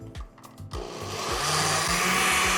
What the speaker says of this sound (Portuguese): Vou desligar aqui porque esse liquidificador ele é barulhento, como todos os liquidificadores que eu conheço.